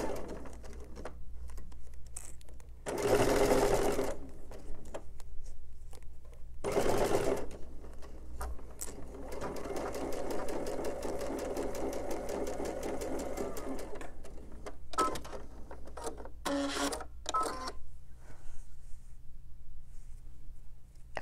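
A sewing machine stitches a quilting seam in steady runs, its motor whirring close and clear between short pauses, with a few soft bird coos in the background.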